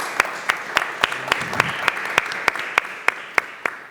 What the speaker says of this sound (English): so a big round of applause to Gonçalo.